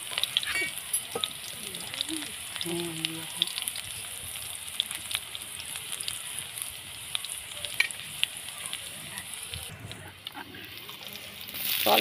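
Chopped garlic frying in a pan while cooking macaroni at home, a continuous moderate sizzle with faint stirring clicks and a brief voice partway through.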